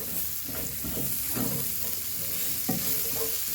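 Onions frying in a pan while a utensil stirs them, giving a steady close sizzle with scraping strokes and a couple of sharper clatters against the pan, with no talking.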